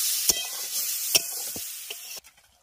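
Water goes into a sizzling spice paste with potato and tomato in a pan, giving a loud, steady hiss with a few stirring knocks that drops away sharply near the end.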